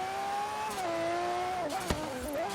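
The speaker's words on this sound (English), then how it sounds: "It definitely makes some turbo noises." A synthetic-sounding twin-turbo Lamborghini Reventón engine in Forza Horizon 3 hums at steady revs, dipping and rising in pitch, with a brief sharp pop partway through.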